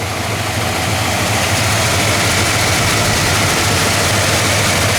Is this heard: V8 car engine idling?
yes